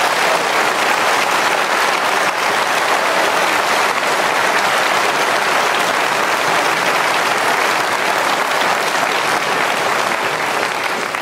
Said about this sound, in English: Biggest cheer of the night.